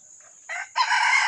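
A red junglefowl rooster crows once, close and loud, a short rising call followed by a longer held note.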